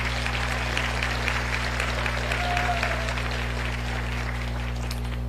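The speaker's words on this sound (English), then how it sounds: "Big round of applause." A crowd at a charity fundraiser event gives a big round of applause, a steady, even wash of clapping held under a constant low electrical hum throughout.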